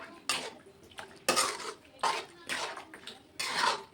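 A kilo of chicken being stirred in a big pot for frying: repeated bursts of clattering and scraping of utensil against metal, close and fairly loud, with short pauses between strokes.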